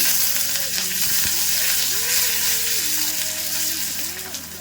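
Mustard seeds, urad dal and curry leaves sizzle in hot oil for a tempering, a loud, close, steady crackling fry that carries on without a break.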